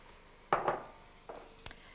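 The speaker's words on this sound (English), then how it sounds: "cooking the vegetables all together in one big pan" Aubergine and strips of green pepper go into a big pan of hot olive oil, giving two quick rattling bursts of frying and stirring followed by a softer clatter and a sharp utensil tap against the pan.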